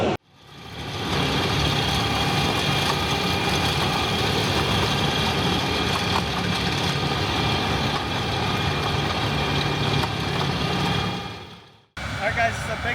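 Bugnot rock grinder engine idles on a land-clearing site, a steady heavy diesel rumble holding for about eleven seconds before cutting briefly and resuming.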